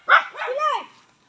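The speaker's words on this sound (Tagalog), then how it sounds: "Ah! Ang aso." A single dog gives a short sharp bark followed by a higher, drawn-out whining yelp, close by and fairly clear, with nobody speaking over it.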